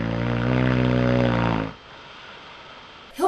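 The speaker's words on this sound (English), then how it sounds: "I kid you not, chainsaw snores" One long, loud, rasping snore rumbles for over a second, then cuts to quiet breathing, ending with a brief snort.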